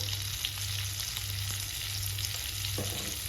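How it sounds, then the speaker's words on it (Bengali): Potatoes fry and sizzle steadily in a pan with turmeric and salt while being stirred, a dense, even crackle with occasional soft scrapes throughout. "আলুগুলো আমি নেড়ে দিচ্ছি ভালো করে"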